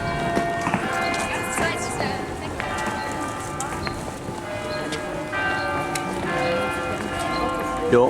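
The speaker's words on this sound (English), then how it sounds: "The beautiful bells and then the sirens" Church bells of York Minster ringing on and off in the city, heard at a distance amid street bustle, clopping hooves and people talking nearby.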